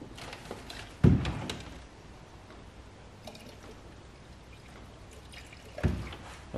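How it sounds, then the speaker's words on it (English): Concentrated coolant is poured into the coolant reservoir of an Audi Q5, a faint, quiet trickle with two brief dull knocks a few seconds apart. "What I'm going to also do while I'm here is top up the coolant."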